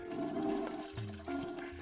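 A toilet flush rushes in a steady wash of water with low gurgling tones shifting beneath it, moderately loud and heard alone.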